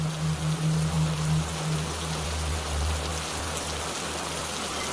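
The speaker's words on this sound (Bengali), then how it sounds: "রাত যত বাড়ল বৃষ্টির বেগ ততই বেড়ে চলল" Heavy rain at night in a cartoon story, a steady dense hiss of downpour with a low hum beneath, continuous and fairly loud, with no talking.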